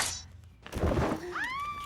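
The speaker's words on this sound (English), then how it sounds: "You made the cat angry." A cat lets out an angry, rising yowl with harmonic wails near the end, following a dull thump and some rustling; the cry is fairly loud and close, with no talk over it.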